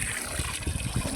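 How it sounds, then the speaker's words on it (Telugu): Liquid pesticide is mixed with water for spraying a fish pond, making soft trickling and sloshing sounds with small irregular splashes that stay close and moderately quiet. "ఇప్పుడైతే ఇవన్నీ మిక్సింగ్ చేసి చూపిస్తాను మీకు"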